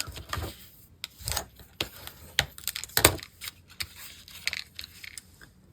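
Paper being folded and creased for an altered paper clip craft gives soft crinkles and short scraping taps at close range, spaced irregularly, with brief pauses in between.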